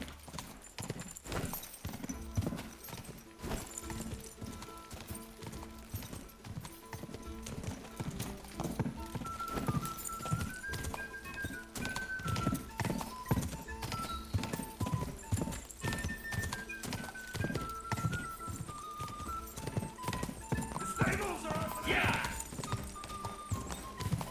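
Horses trotting in the video game Kingdom Come: Deliverance II, with steady rhythmic clip-clop hoofbeats, occasional whinnies and a music bed running throughout at moderate loudness.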